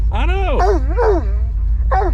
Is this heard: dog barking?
yes